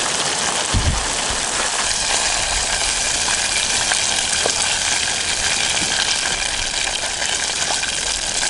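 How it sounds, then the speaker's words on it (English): Crab rangoon, wontons stuffed with fresh raw crab and cream cheese, deep-frying in hot oil, giving a loud, steady, dense sizzle and crackle that runs without a break, close and alone with no voices. "We got our fresh Crab Rangoon fried."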